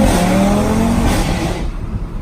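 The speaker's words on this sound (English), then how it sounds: "The gear changes and everything. It sounds like a race car." A car engine revs hard through rising pitch sweeps with audible gear changes, loud and close like a race car, with a brief tire squeal edge.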